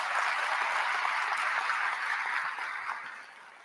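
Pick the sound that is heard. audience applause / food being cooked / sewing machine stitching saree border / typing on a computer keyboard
audience applause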